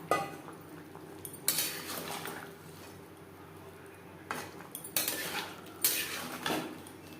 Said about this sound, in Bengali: মাছও মাছের মাছা বেশ ভালো করে মিক্সড করে দেব